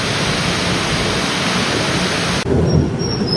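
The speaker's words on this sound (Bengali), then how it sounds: "একটুও ভাল লাগছে না এত বৃষ্টি।" Heavy rain pours down steadily with thunder rumbling through it, a loud, dense roar that continues throughout with a brief dip near the end.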